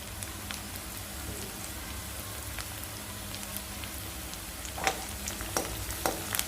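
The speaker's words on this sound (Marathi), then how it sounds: "आता त्यामध्ये आपण आलं लसणाची पेस्ट टाकायची आहे." Ginger-garlic paste and onion hiss and crackle in a hot pan for Marathi-style batata bhaji potatoes, giving a steady close sizzle with a few sharper pops and stirring scrapes near the end.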